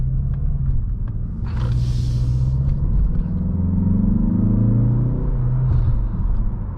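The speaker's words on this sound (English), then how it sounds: "Now, that's real engine noise you're hearing right now." A 2023 Mazda 3 Turbo hatchback's engine heard from inside the cabin while driving, a steady low rumble that swells slightly as the car accelerates, with faint road and interior noise.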